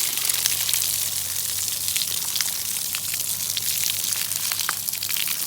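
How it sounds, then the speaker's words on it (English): A garden hose sprays steadily onto an aftermarket cold air intake filter during cleaning, making a continuous close hiss and patter of water with no break across the clip. "now I'm just going to start rinsing it with the garden hose"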